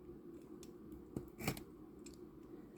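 Scissors or a blade cutting through packing tape on a Dooney & Bourke parcel, a few quiet snips and one louder rasping cut over a soft room hum.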